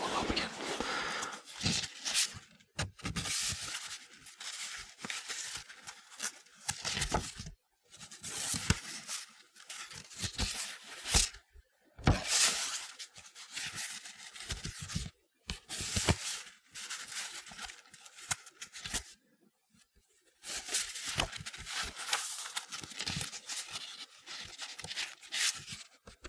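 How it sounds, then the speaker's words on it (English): Paper note cards being shuffled up close in a quiet room, giving soft repeated rustling and flicking bursts with brief pauses between them, no talking. "It's hard to shuffle these note cards."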